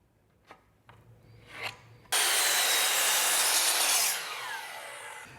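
A saw cuts through a 2x6 wooden board, starting with a few soft taps and shuffles, then a loud, continuous harsh buzzing cut lasting about two seconds that eases to a quieter whine at the end.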